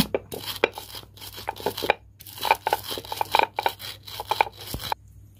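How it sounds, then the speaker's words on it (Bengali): Dried red chillies and whole cumin seeds being crushed by hand, close up, with a run of irregular crunchy, crackling bursts and brief pauses, no talking. "এবার শুকনো লঙ্কাটা গোটা জিরেটা গুঁড়ো করে নেব।"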